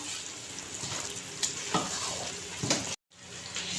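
A thick barfi mixture of flour, semolina and plumped raisins is stirred steadily in a pan, with a soft sizzle underneath and a few louder scraping strokes and a brief dropout near the end. No one talks.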